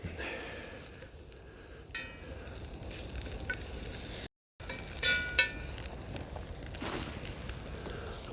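Food sizzles and fries over a campfire in wet, heavy snow at a winter bushcraft camp, a soft, steady crackle close by, briefly cut off, with light clinks of cutlery and a crinkle.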